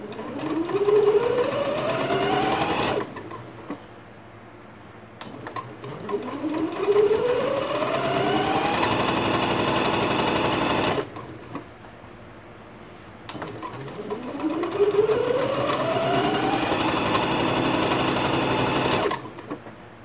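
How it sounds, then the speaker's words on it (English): Sewing machine stitching a round bag: three long runs of fast, steady mechanical whirring that ramp up each time, separated by short pauses, close and clear with no talking. "let's sew this down"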